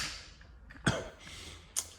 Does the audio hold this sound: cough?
yes